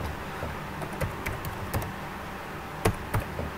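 Keys on a computer keyboard tapped to enter a username into a school Moodle registration form, a quiet scattering of light clicks in short irregular bursts with a pair of sharper strokes near the end.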